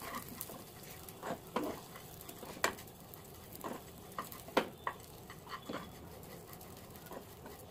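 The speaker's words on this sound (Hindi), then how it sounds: "बस थोड़ा सा हमें उसको भून लेना है" Rice roasts in a pan for mango-flavoured rice kheer, giving faint, scattered dry clicks and scrapes from stirring over a quiet background, with no talk.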